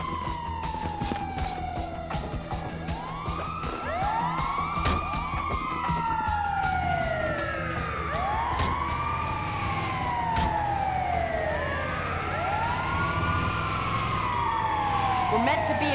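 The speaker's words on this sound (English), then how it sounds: "Oh, shit, it's the ambulance!" An ambulance siren in the video game Grand Theft Auto 5 wails loudly and continuously in rising and falling sweeps, with several siren tones overlapping over a steady bed of engine and traffic noise.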